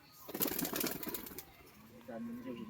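A male Black Diamond pigeon gives a soft, brief coo near the end, partly under people talking nearby with some rustling.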